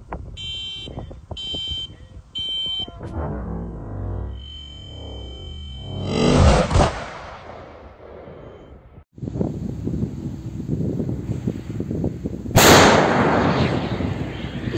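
Artillery guns firing on a battlefield: several heavy blasts with rumbling booms, mixed with bursts of electronic tones and broadband noise, fairly loud throughout with no speech.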